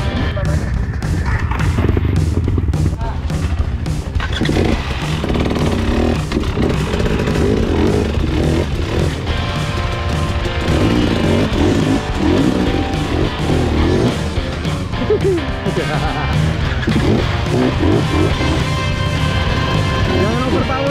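A Yamaha WR 155 motorcycle rides off-road, its engine droning and revving continuously with clattering over rough ground, close and loud, while people talk over it.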